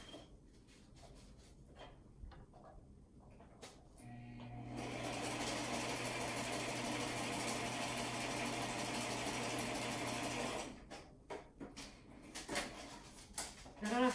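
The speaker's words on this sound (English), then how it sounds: "Let me sew this on real quick." A sewing machine runs in a steady, rapid stitching burst for several seconds, framed by quiet handling clicks and rustling before and after.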